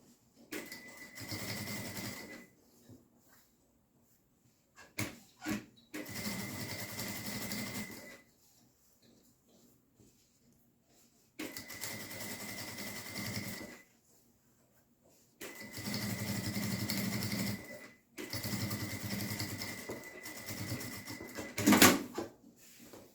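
A sewing machine stitches fabric for a quick zip pouch in several steady motor runs of a few seconds each, separated by quiet pauses and a few handling clicks. Close and moderately loud, with no talking.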